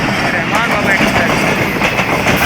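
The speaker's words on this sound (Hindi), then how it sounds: "लूप लाइन पे नहीं है, सेंटर लाइन पे ट्रेन आई है।" The Rahman Baba Express runs through on the centre line, a loud close rumble of wheels on rail with steady clatter while someone speaks over it.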